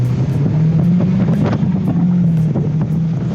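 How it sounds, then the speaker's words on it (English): The four-cylinder engine and exhaust of a 2019 Mazda MX-5 Miata hum steadily as the car drives with the top down, with gusting wind buffeting the microphone. "Put the top down, and it's really enjoyable to hear the engine sing."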